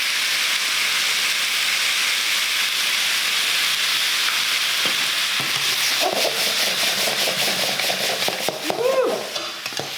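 Stir-fry sauce hits a smoking-hot wok holding leftover Christmas turkey, giving a loud, steady sizzle and hiss with occasional stirring clatter and bubbling as it comes to a boil.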